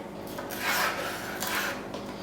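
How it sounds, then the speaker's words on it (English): A knife chops food into small chunks for barbecue chicken and pineapple skewers, giving a few soft rasping, scraping strokes close by, with no voices. "I'm just going to begin cutting these into little chunks"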